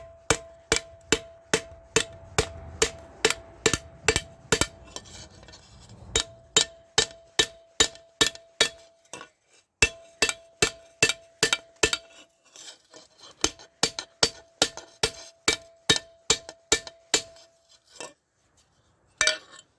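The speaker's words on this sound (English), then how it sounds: "we'll get a big hammer here and just start" Steady, evenly spaced blows of a big hammer cutting a broken shovel, about two per second, loud and sharp, with a sustained metallic ring between strikes and brief pauses.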